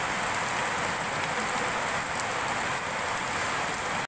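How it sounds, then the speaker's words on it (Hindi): Steady evening rain falls across a rooftop, a dense even hiss of drops hitting surfaces that stays close and constant throughout, with no voices. "शाम का टाइम है लेकिन बारिश"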